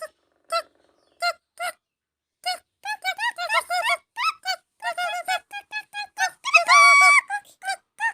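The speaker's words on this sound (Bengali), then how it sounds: "গুড্ডু তো এখানে বাইরে মুরগির সঙ্গে খেলা করছে।" Cartoon chickens give short, squeaky, clucking calls outdoors. The calls come as separate bursts at first, then crowd together into a quick run of chirps, with a brief sustained squawk near the end.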